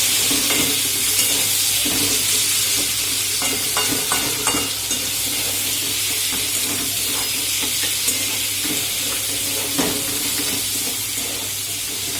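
Onion and tomato fry in a pan with cumin seeds and bay leaf, giving a continuous loud sizzle broken by repeated stirring scrapes and clicks, with no voices.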